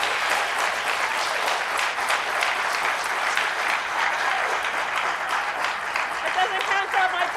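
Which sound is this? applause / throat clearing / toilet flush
applause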